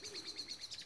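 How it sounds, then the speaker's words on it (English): Birds disturbed in the Cheshire countryside give a quick run of soft, repeated chirping calls, close and fairly quiet, with no talking. "Oh, sorry birds, have I disturbed you?"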